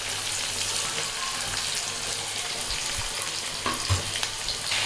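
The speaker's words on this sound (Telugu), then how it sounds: "ఇప్పుడు ఆనియన్స్ యాడ్ చేసాం. ఆనియన్స్ యాడ్ చేసిన తర్వాత లైట్గా ఆనియన్స్ మగ్గాలి." Onions sizzle steadily in hot oil with curry leaves in a pan for mutton curry, a close, even frying hiss with occasional stirring clicks.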